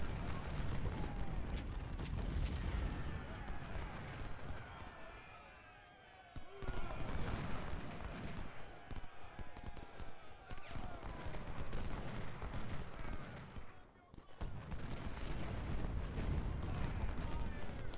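Constant crackling musket volleys and booming artillery from the Civil War strategy game Ultimate General: Civil War, a dense battle din with brief lulls while someone talks over it.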